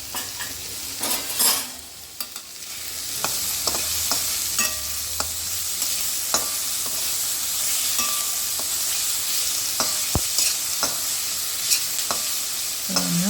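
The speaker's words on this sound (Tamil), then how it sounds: "நல்லா வதங்கி வந்துடுச்சு ரெண்டு நிமிஷம் கொஞ்சம் வதங்கணும் நல்லா" Onions and spices sautéing in a pan with salt for a coconut milk gravy, a steady close sizzle with repeated scraping and stirring clicks from a utensil against the pan throughout.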